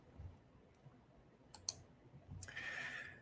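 A few sharp computer mouse clicks sound while navigating a trading chart on screen, scattered and close, with a brighter rustling stretch near the end and no speech.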